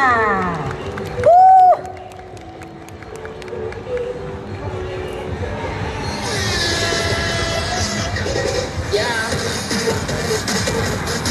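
At a large lantern parade during the Kaohsiung 2016 lantern festival, a crowd breaks into clapping and cheering. It builds into a steady wash of applause over the second half, amid outdoor crowd bustle and a brief tonal call near the start.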